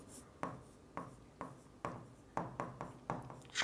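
Chalk or marker writing on a board during a digital logic lesson, a run of about nine short scraping strokes in steady rhythm, close and clear with no talking.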